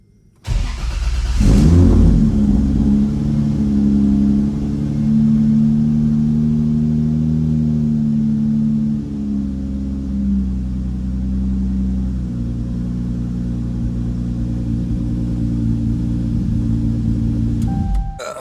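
A Toyota 2JZ engine controlled by a Holley Terminator X cranks and fires, then settles into a loud, steady idle with no throttle applied, running continuously and alone at close range.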